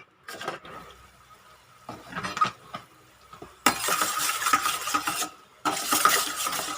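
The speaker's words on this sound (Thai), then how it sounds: "กะทิเขาเริ่มเดือดแล้วนะคะ" Coconut cream simmering in a pot for Thai green chicken curry, with a soft bubbling hiss and scraping spoon strokes, quiet at first and then louder in bursts of steady sizzle.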